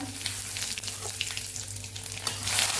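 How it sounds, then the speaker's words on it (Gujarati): Steady, crackling sizzle of cumin, asafoetida and curry leaves hitting hot oil, continuous and close, with no talking. "અહીંયા આપણું તેલ ગરમ જ છે તો આપણે એક ચમચી જેટલું જીરું અડધી ચમચી જેટલી હિંગ મીઠા લીમડાના પાન"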